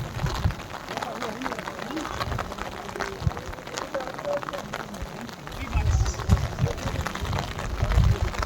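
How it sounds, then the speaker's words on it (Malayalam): Rain falls steadily at a large tulip garden, a dense patter and splash on surfaces close by with heavier drops thudding now and then, continuous throughout with a faint voice in the background. "ആ നിൽക്കുന്നത് മഴ കൊണ്ട് നിൽക്കുകയാണ്."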